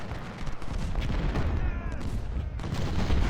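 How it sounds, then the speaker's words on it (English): Dense artillery booms and crackling musket volleys from a Civil War battle in the strategy game Ultimate General: Civil War, a continuous loud fusillade of overlapping shots. "That has so much artillery."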